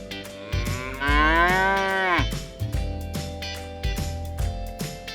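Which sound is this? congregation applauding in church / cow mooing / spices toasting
cow mooing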